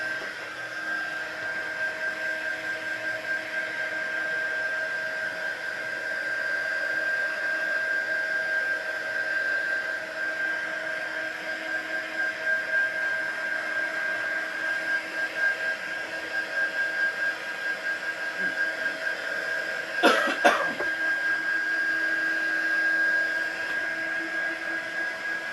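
A hair dryer blows steadily and close for the whole stretch, drying freshly embossed craft pages, its whine holding level with a brief clatter of handling near the end.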